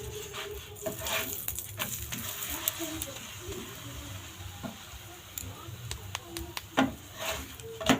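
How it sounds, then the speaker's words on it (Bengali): Cauliflower fritters frying in a little oil, a steady close sizzle broken by sharp ticks and taps of a utensil against the pan, with speech now and then. "অল্প করে তেল দিয়ে ভেজে নিই চটপট।"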